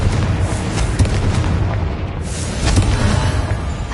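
A Confringo explosion spell goes off in Hogwarts Legacy, a dense, loud rumbling boom that fills the whole stretch with sustained blast noise and small swells, no voices over it.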